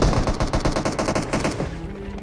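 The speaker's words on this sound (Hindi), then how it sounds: "आते हैं अपार्टमेंट और तगड़ी वाली फायरिंग सुन" Heavy automatic gunfire near an apartment building in the mobile battle royale game BGMI, with rapid, loud, evenly spaced bursts that hammer on for about a second and a half before fading into a softer tail. No voices.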